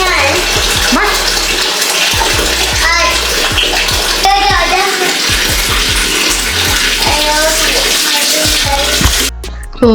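A child is bathed and shampooed under steady running tap water that fills the bathtub, with a voice and other voices breaking through repeatedly and a dog barking briefly near the end.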